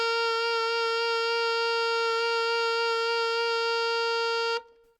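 An alto saxophone holds a single steady middle G, clear and sustained for about four and a half seconds before stopping abruptly. No one speaks.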